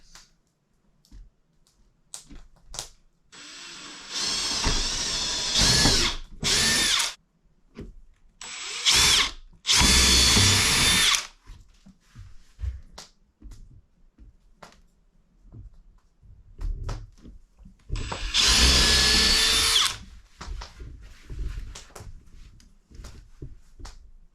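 A power drill bores into wood framing around a doorway. It comes in several loud bursts of whirring, and quiet pauses and small clicks fall between them.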